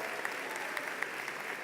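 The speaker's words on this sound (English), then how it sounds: "Give him a round of applause." An audience applauds at a rainy 2017 River Hill High School commencement, a brief burst of dense, steady clapping from a crowd.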